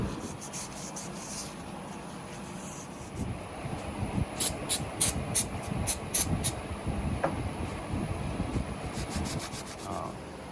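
Close, steady rubbing and wiping as the case spigots of a VW 1641 engine are cleaned by hand before sealant goes on, with faint scratchy scrubbing strokes and a few light clicks.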